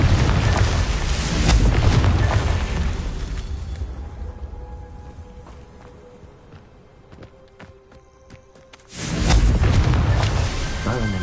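A Confringo fire spell bursts in the Hogwarts Legacy game with a heavy, rumbling boom that fades slowly over several seconds, then a second loud explosive blast erupts near the end.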